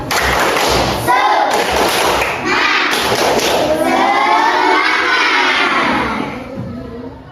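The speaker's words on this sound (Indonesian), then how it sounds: "Tepuk semangat, tepuk semangat." A school class does the rhythmic tepuk semangat clap, with sharp group claps and thuds in a patterned beat, close and loud, mixed with children's chanting voices.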